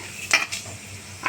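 Dried red chillies, cumin and nigella seeds drop into a hot pan with quick clinks and short crackling sizzles, then a louder burst at the end.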